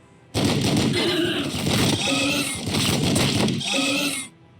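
Units open fire in Warhammer 40K Battlesector, a loud, dense burst of rapid gunfire with scraping, metallic texture that runs steadily for about four seconds before cutting off.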